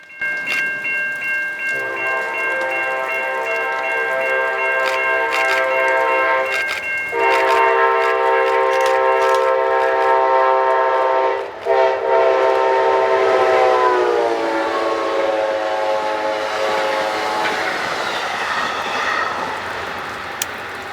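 Amtrak Maple Leaf passenger train rumbles past on a cold, rainy day in Buffalo while its multi-tone horn blares in long, loud blasts, the pitch sagging as it moves away.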